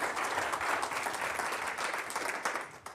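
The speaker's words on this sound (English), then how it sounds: "one more round of applause to all of our presenters today" A crowd applauds steadily, a dense wash of clapping that holds for a few seconds and then begins to taper off.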